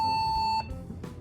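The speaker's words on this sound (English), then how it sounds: "You have the flag and it beeps." A Nerf Nuke toy in flag mode gives one sharp, close, high electronic beep lasting about half a second, then goes quiet.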